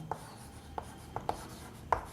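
Chalk or marker taps and short strokes on a classroom board during a chemistry lesson, five faint brief ticks spaced irregularly over low room hiss, no talking.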